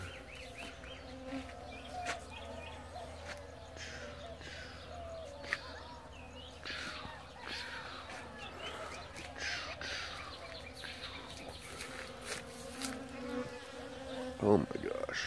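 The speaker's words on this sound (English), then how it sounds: "you can hear the bees" A steady hum of bees buzzes throughout on a dragon fruit farm, with individual insects droning past up close and faint bird chirps in the distance.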